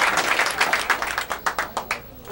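A single person claps in a steady, fairly close rhythm of roughly a dozen hand claps after a kiss shot in an artistic three-cushion billiards exhibition, with no talking over it.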